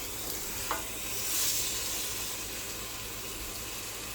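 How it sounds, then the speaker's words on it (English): Steady, quiet sizzling of chicken searing skin side down in a pan on medium heat, a constant crackling hiss with a faint clink near the start. "you want to sear the chicken 5 minutes, skin side down. There's the sound that I want."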